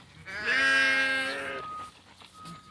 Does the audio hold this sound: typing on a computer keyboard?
no